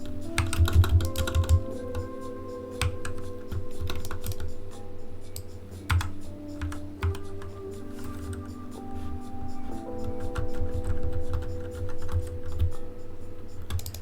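Keys on a computer keyboard clatter in quick, uneven bursts of typing, close and fairly quiet, over a steady low hum, with no talk.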